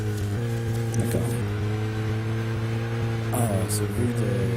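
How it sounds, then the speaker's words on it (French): Engine drone of a car in the video game Deadly Premonition, a steady low hum with a faint rising whine partway through, continuous and fairly close throughout. "Ah, ce bruit de voiture là."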